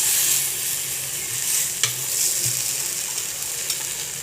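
Raw banana slices sizzle steadily in oil on a tawa, a continuous close frying hiss with a few sharp pops and soft scraping as pieces are turned.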